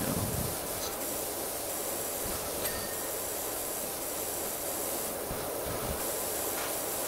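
A pressure washer in Powerwash Simulator sprays in one continuous loud, even hiss lasting the whole stretch, close and steady with no pauses.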